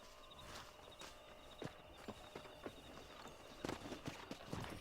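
A black horse walking in Red Dead Redemption, hooves clip-clopping in an uneven, unhurried rhythm at moderate distance over a quiet outdoor ambience.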